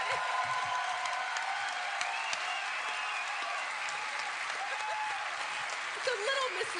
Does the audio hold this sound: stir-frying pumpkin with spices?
no